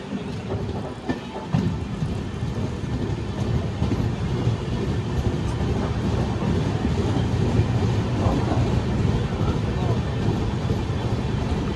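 The 12639 Brindavan Express on the Chennai–Bengaluru line pulls out of Ambur station, a steady heavy rumble of rolling wheels and carriages that builds and holds for several seconds.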